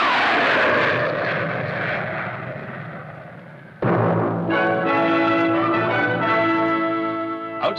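Jet aircraft roar from an F-86 single-seater day fighter, a loud broadband rush that fades slightly, then a sudden louder burst with strong sustained whining turbine tones continuing to the end.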